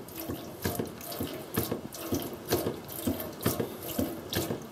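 Water gushes and splashes from a camper faucet as the water system pump pushes it through, a steady running flow with rhythmic surges and faint mechanical clicking, close and with no talking.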